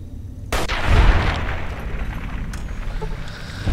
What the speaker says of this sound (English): some days you just have to throw a frag grenade at a super mutant